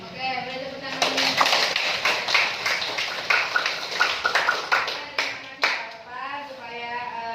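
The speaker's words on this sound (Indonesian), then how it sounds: "Oke, boleh tepuk tangan dulu." Class participants clap together at an individual mentoring session, a dense patter of close hand claps with voices and talk running underneath throughout.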